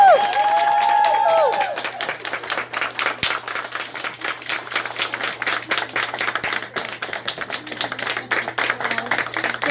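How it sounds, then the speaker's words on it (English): Sustained applause from an audience at a fundraiser gathering after a speech, dense and loud throughout with a steady wash of many hands clapping, a voice briefly speaking at the start. "Another round of applause."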